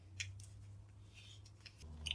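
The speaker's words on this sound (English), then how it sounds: "scissors go inside. Make a cut." Scissors snip through a paper luchador mask template in several close, crisp cuts, quiet and spaced irregularly over a low background hum.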